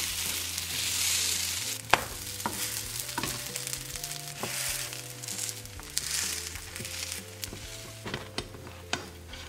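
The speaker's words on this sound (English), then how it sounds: "once my pan is all heated up, I can go ahead and place my bread on." Vegan bread slices sizzle steadily in a heated, oiled pan, with occasional utensil clicks and scrapes over the continuous frying hiss.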